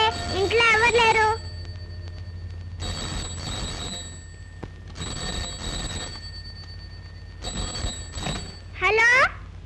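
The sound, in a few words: telephone ringing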